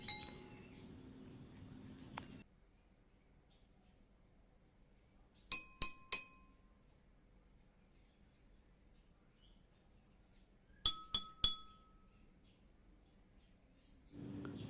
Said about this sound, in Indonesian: ketuk gelas menggunakan sendok dan dengarkan perbedaan suara yang